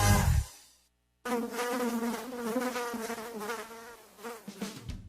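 A mosquito's thin, high whine drones continuously for several seconds, close and fairly loud, wavering in pitch, after a short burst of other sound and a brief silence in a radio pest-control advert.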